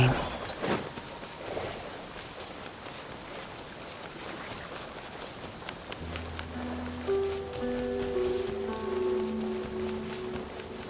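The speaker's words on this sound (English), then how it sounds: "I like the rain." Steady rain patters across the scene in Genshin Impact, with a few louder drops early on, then soft sustained tones join in over the rainfall.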